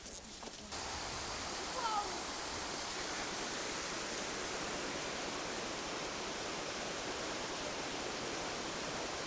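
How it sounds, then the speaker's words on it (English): River water rushes steadily near an old water-driven flour mill in Bayeux, a dense, continuous broadband roar that stays loud and even after a brief quieter moment at the start. "This is a continuation of the river that runs through the village of Bayeux."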